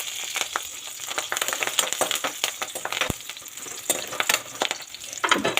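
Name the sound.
curry leaves frying in a pan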